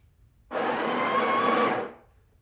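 A Breville Barista Express BES870 espresso machine grinds coffee in one short burst of about one and a half seconds, a steady loud whirring grind that starts abruptly and fades out, with no talk.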